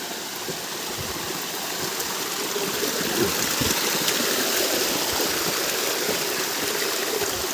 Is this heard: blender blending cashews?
no